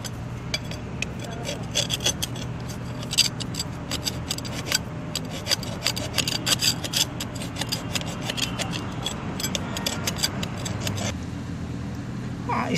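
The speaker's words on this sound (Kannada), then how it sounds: "ಇದನ್ನು ಸ್ವಲ್ಪ ಫಾಯ್ಲಿಂದ ಅಥವಾ ಪಾಲಿಶ್ ಪೇಪರಿಂದ ಇದನ್ನು ಸ್ವಲ್ಪ ತಿಕ್ಕೊಂಡ್ಬಿಟ್ಟು" Rusty metal part of an earth pit being rubbed with a file or polish paper: continuous gritty scraping and rasping strokes, close and steady, over a low background hum.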